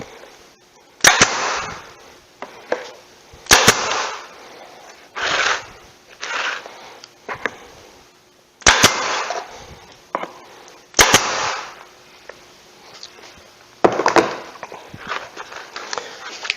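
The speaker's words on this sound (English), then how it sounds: "Then you can put these little tacks in." Small tacks being driven into oak picture frames: a series of sharp, loud snapping impacts, some in quick doubles, separated by short pauses and softer handling noises, close up.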